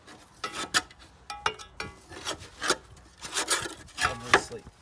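A blunt knife scrapes caked build-up off the underside of a Victa four-stroke lawn mower deck, in close, irregular rasping strokes with short pauses between them.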